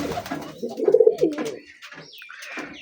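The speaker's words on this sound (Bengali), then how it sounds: "এই যে আমার কবুতর" Pigeons cooing inside a loft housing Shirazi and black pigeons with nesting pairs, a burst of close, repeated low coos in the middle, with softer bird calls and scattered higher chirps around it.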